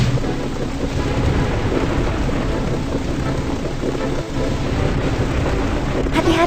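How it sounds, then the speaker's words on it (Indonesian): Heavy storm noise roars steadily, rain and wind rushing together with deep rumbling underneath, loud and continuous throughout. "Hati-hati, badai semakin kuat."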